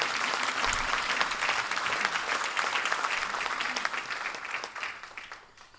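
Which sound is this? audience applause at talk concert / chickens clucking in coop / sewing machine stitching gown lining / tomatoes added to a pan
audience applause at talk concert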